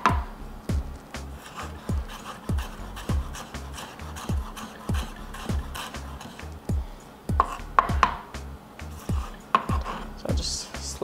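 A knife slices through carrots on a cutting board, giving a steady run of crisp, evenly spaced chops at close range with a few faint rustles between strokes.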